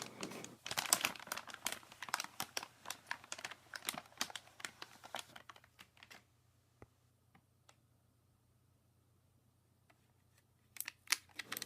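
An MSI GTX 980 Ti graphics card is pulled from its electrostatic bag, the plastic crinkling loudly and rapidly at first, then a quiet stretch with scattered faint ticks, before another burst of crinkling near the end; no speech.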